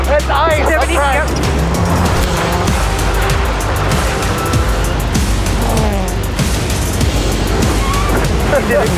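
A rally car runs flat out on an icy stage, its engine roaring loud and close with steady noise from tires and gravel, while a co-driver and driver talk over it.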